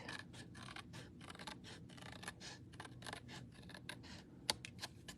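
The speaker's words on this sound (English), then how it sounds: "I'm going to use my scissors that I use for adhesive" Close, crisp scissor snips in a quick, uneven series, trimming thin adhesive, with no one talking.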